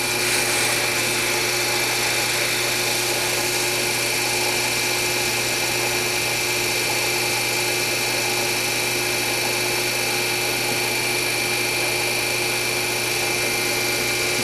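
A lathe spins a CA-finished pen blank while it is wet-sanded with micro mesh, giving a loud, constant whirring motor hum with steady tonal whine and no pauses.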